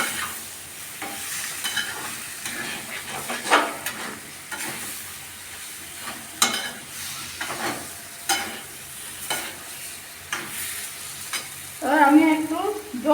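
Cauliflower and potato with spices are stirred in a frying pan, giving a steady low sizzle broken by irregular scraping strokes of the utensil, close and fairly quiet with no talk.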